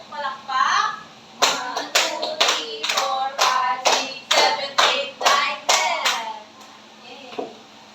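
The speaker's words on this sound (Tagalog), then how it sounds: "bigyan ninyo ang inyong sarili ng 10 palakpak" Children in a classroom clap in a quick run of about ten sharp, evenly spaced claps, loud and near, with a voice briefly heard before the claps begin.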